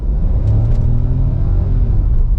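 A Hyundai Creta Limited 2024 with the 1.0 engine pulls away from a start, giving a steady, loud low engine rumble and whir that holds through the whole stretch, close up with no talking.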